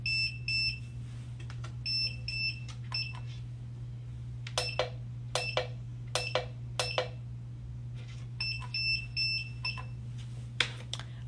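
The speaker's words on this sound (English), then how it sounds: "All the beeping still scares me." Sublimation heat press, already heated to 145, beeping in repeated clusters of sharp, bright electronic tones over a steady low hum, with pauses between bursts and no talk.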